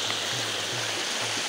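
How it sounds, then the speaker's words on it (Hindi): Water falls down over rocks at Shahdara Point near Islamabad, a steady close rushing wash of water with a faint low hum underneath and no voices. "ये नीचे पानी गिर रहा है"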